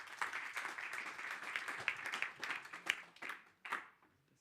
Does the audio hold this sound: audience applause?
yes